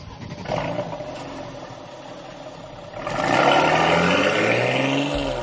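A Mercedes GLE Coupe drives along the road, its engine a steady hum that swells into a louder, rising rev as it accelerates partway through, with no talk.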